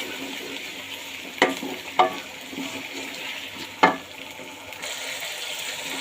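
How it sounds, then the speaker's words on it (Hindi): Ginger and garlic fry in a pan with a soft, steady sizzle. A few sharp scrapes or clicks of stirring break through now and then. "अदरक लहसुन हमारा फ्राई हो गया है।"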